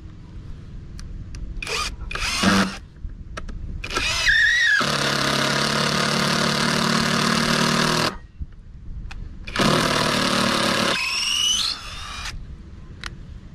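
A Parkside impact driver sinks a 100 mm screw at its lowest setting on a building test, a high rattling whir in two sustained bursts of about three and one and a half seconds, near and loud, with short trigger blips between.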